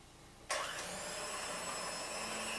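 An electric mixer switches on and runs steadily at low speed, beating vanilla cake batter with sour milk and dry ingredients; a constant whirring drone with no talking.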